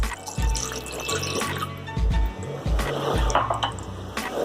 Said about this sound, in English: So now add in a cup of water.